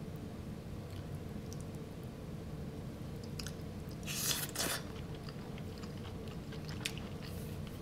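Someone eats Sate beef noodles up close, soft chewing and biting with a brief slurp-like burst, quiet against a low background hum and no talk.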